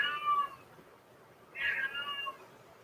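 A rescued shop cat meows twice, drawn-out plaintive cries about a second apart, close and clear over a quiet background hum.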